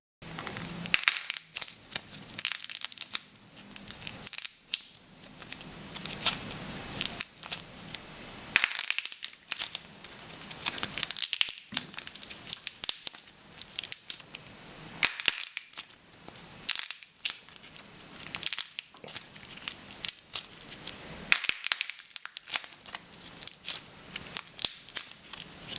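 Homemade clay cracking balls coated in wood lacquer, made from a chunky type of clay, are crushed by hand with dense crunching, crackling and crinkling in repeated bursts separated by brief quiet gaps, close and crisp with no speech.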